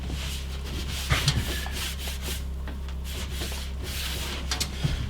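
Oil is rubbed by hand into a wooden kitchen countertop, making soft, irregular scrubbing and rubbing strokes close by over a low, steady background hum.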